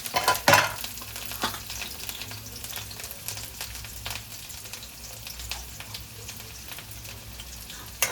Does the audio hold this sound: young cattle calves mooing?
no